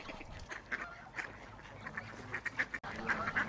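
Geese honk and call in a farmyard pecking-order scuffle, with repeated close, raspy honks scattered over a noisy outdoor background.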